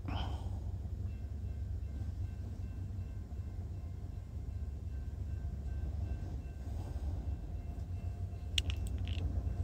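A short Norfolk Southern intermodal freight train rolls northbound on track one, a steady low rumble of wagons close by with faint squeals and rattles near the end.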